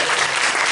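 Audience clapping at a Darwin Day talk as the speaker is introduced: a thick, continuous wash of applause filling the room.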